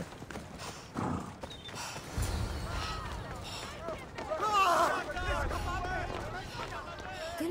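Horse in Assassin's Creed Odyssey, hooves clip-clopping with snorts and movement amid game ambience, with a voice speaking at times over it.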